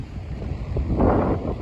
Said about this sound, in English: still quite breezy, still a nice surf out there